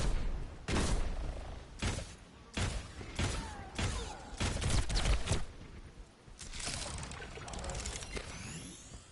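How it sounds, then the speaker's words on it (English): Automated turret firing in the video game Overwatch, a string of sharp, punchy shots spaced irregularly across the clip, loud and close amid a busy game soundscape. "So it's firing at the moment, my turret."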